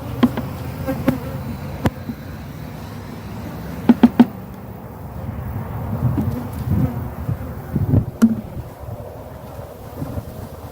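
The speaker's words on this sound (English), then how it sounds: "Go away, bees." Honeybees buzz around an open hive in a steady close drone, broken by sharp clicks and knocks of frames being handled and some wind rumble on the microphone.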